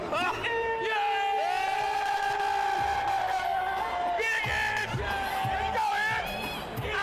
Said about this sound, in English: New York, make some noise.